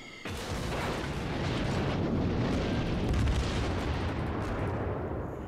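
Naval gunfire in the game World of Warships: a dense, sustained roar of heavy booming salvos blending into one loud continuous rumble for several seconds, with no speech.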